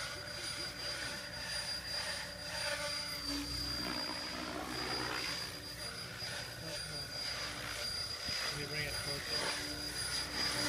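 A radio-controlled helicopter flying pirouettes in a challenge, a steady buzzing whine of the rotor and motor carrying on throughout at moderate distance, with voices talking over it.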